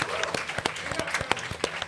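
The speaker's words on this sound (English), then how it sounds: "give them a round of applause" Applause from the crowd at a grappling championship after a close match, a short stretch of distinct claps over a noisy hall with voices in the background.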